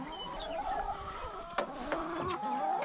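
Chickens clucking nearby in soft, overlapping murmurs with a few sharper clucks poking out, no talking.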